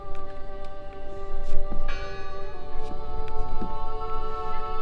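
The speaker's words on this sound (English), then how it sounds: "I heard the bell." Bell ringing in the horror adventure game Draugen, sustained ringing tones sounding steadily over a low ambient rumble, with a brighter strike near the middle.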